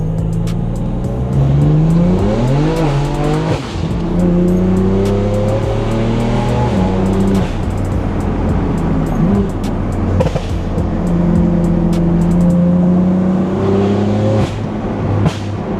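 A tuned BMW M4 fitted with a downpipe accelerates hard, its loud exhaust note climbing through the revs, dropping briefly at a shift, then rising again steadily across the whole stretch.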